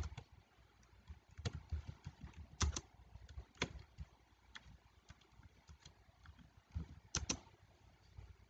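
Keys on a computer keyboard are struck in irregular close taps and small clusters, faint and sparse over a quiet room background, with no talking.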